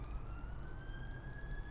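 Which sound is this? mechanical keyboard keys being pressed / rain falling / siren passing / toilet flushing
siren passing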